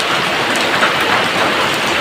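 Steady, dense rain falling in Belkuchi, Sirajganj, after a long dry spell, a loud continuous hiss of drops on surfaces with no voices.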